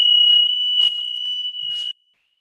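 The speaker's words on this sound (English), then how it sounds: "I set off the fire alarm" An indoor fire alarm set off by a candle sounds one continuous high-pitched electronic tone for about two seconds before cutting off abruptly.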